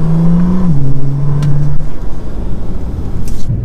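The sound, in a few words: Bentley Continental GT engine with exhaust valve system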